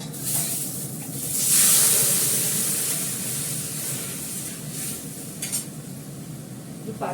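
Whole spices hit hot oil in a pan as five-spice tempering for dal, giving a steady broadband sizzle that swells early, then settles into a continuous crackle with a few faint utensil clinks and no talk.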